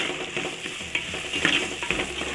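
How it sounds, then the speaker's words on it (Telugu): Egg omelette curry with garam masala and coriander powder is stirred in a frying pan, rhythmic scraping strokes over a steady sizzle, close and with no voices. "బాగా కలుపుకోవాలి."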